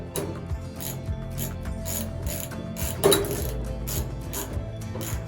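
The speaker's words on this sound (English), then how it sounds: "we'll get our 7/16 socket and our ratchet and give it a nice snug tightening" Ratchet wrench with a 7/16 socket snugging down a stop bolt on a dumpster's Kleen Opener gas-spring mount, a run of quick close clicks with one louder clack partway through.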